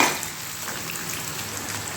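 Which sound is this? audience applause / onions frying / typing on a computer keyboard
onions frying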